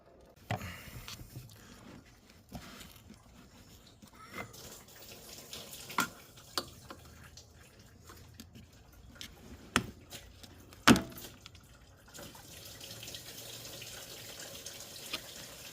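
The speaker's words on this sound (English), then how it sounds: "More coolant draining." Engine coolant drains from a vehicle near a turbo, a soft trickle and sporadic drips into a catch container with occasional clanks and knocks of tools, fairly quiet and close in a workshop.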